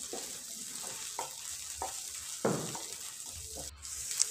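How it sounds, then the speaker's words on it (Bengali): Ginger garlic paste fries in oil with a soft, steady sizzle, broken by a few scraping stirs of a spoon; fairly quiet and without speech. "কিছুক্ষণ আদা রসুন বাটাটা ভেজে নেব যাতে কাঁচা গন্ধটা চলে যায়।"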